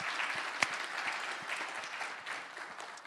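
Church congregation applauding to thank a kids' ministry leader, a steady, even wash of many hands clapping at moderate distance for the whole stretch, with one sharper clap standing out near the start and no talking over it.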